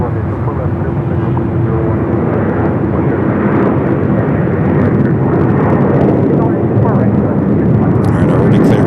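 An airliner takes off from a runway at LAX, its engines roaring loud and steady with a broad, sustained rumble that builds slightly toward the end, with voices talking over it.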